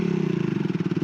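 A Triumph Tracker 400 motorcycle engine pulls steadily while riding in high gear, a loud, close, throbbing drone with a fast regular pulse and no talk.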